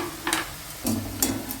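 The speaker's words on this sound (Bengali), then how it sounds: "এদিকে পেঁয়াজ বেরেস্তা করা হচ্ছে" Sliced onions fry in oil into crisp beresta for South Indian chicken biryani, a close, continuous hiss broken by three short stirring scrapes.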